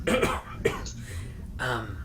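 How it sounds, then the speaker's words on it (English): A throat being cleared, a few short rough bursts close to the mic, with faint voice-like sound between them. "I'm gonna clear my throat."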